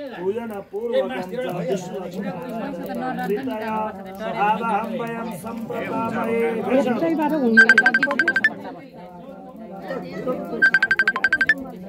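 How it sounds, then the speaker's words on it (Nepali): A phone ringtone chirps in two short electronic bursts during a household puja, rising over a steady mix of voices and chatter close by. "मामा फोन आयो"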